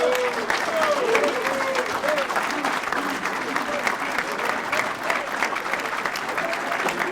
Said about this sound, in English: let's give a round of applause for one of this year's MLK honorees